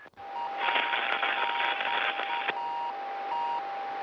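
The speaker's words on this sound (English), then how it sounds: "you also hear the intermittent beeping sound" A Soyuz landing location beacon gives out steady, intermittent electronic beeps at an even rhythm, heard over hissing radio-style static during the capsule's parachute descent.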